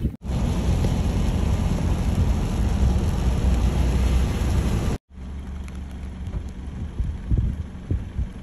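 Heavy rain pours steadily during a thunderstorm over the Tihama region, a dense, loud hiss of falling water that cuts out briefly near the five-second mark and then resumes a little softer with scattered drops and patters.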